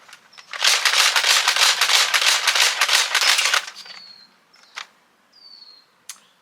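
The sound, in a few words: Nerf Elite 2.0 Eaglepoint blaster slam firing darts at targets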